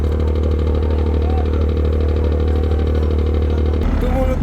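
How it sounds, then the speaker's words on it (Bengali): Passenger launch engines running at the Charmonai ghat river landing give a loud, continuous low droning hum that shifts in character just before the end. "চরমোনাই ঘাটে এক একটি লঞ্চের ইঞ্জিন স্টার্ট করা হয়েছে"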